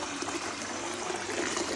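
Running water from a salon sink rinsing hair, a soft steady trickle and splash at low volume, fairly close and without speech.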